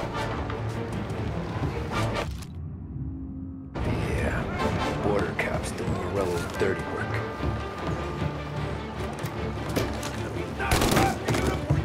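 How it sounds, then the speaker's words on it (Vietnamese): Gunfire in the video game Mafia: Definitive Edition comes as dense bursts of loud shots and rapid fusillades, with one brief silent gap, and a person speaks over the shooting throughout. "Ồ, mấy súng này mạnh các bạn ơi."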